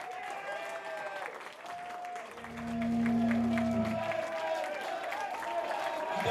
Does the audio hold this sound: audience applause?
yes